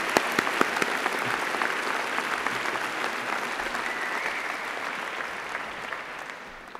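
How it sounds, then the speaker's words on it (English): A large crowd applauds the graduating Department of Chemistry class at a university graduation ceremony. The clapping is continuous and thick, holding steady before easing slightly toward the end. "Please join me in a very big round of applause to the graduating class"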